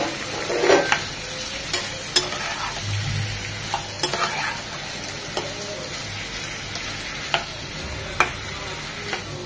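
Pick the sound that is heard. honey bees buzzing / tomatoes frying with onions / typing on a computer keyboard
tomatoes frying with onions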